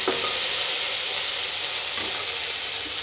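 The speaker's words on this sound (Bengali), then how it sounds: "তো একটু তেলটা গরম হলে এগুলো আমি দিয়ে দেবো। তারপর কিছুক্ষণ নাড়াচাড়া করবো।" Cardamom and tomato fry in hot oil in a pan, giving off a dense, steady hiss and sizzle throughout. A few faint scrapes of stirring sit close beneath it, and no one speaks.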